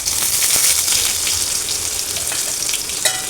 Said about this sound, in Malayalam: അതൊന്ന് ശരിക്കും മൊരിയിട്ട് കൊടുക്കാം.